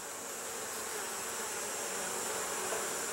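Honeybees swarming around an open hive during an inspection, a dense continuous hum of many wings close to the listener, steady and fairly loud with no voices.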